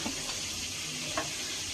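Fish frying in hot oil in a home kitchen gives a steady, soft sizzle that crackles continuously throughout, with no voices over it.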